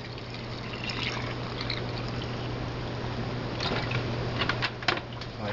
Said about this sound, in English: Then you just add your white vinegar.